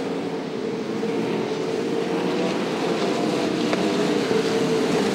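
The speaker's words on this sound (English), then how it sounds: "there's a couple of motors that absolutely sound terrible out there" Several speedway race car engines drone together at a dirt track in Sydney, a steady, loud, somewhat ragged roar with rough-running motors blending into a continuous buzzing wash heard from a distance.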